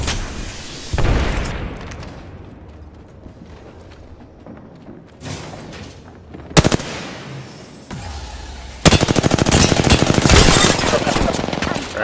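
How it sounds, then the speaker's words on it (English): Explosions and rapid gunfire in an Apex Legends ranked match, an arc star grenade among them: a heavy boom near the start, another sharp blast midway, then a long loud burst of automatic fire at the end. "Throwing arc star."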